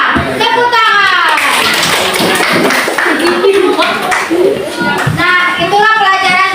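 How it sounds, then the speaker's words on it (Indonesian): Schoolchildren in a classroom clap together after a group presentation, close and lively, with excited kids' voices and shouts mixed in throughout. "Tepuk tangan"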